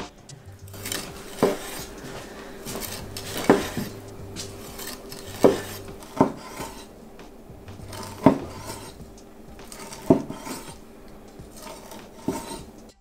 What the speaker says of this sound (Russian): Нарезаем на кусочки, чтобы было и мясо, и хрустящая корочка.